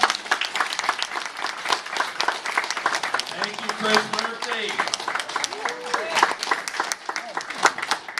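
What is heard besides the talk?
crowd applause for a speaker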